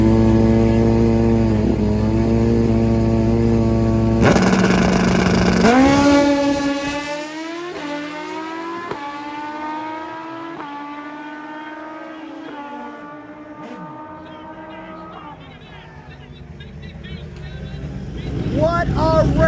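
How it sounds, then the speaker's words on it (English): Nitrous and turbo Hayabusa drag motorcycles roar at the start line, then launch hard with a loud, rising engine howl through repeated gear changes that fades into the distance before revving returns. "This is going to be one heck of a drag race."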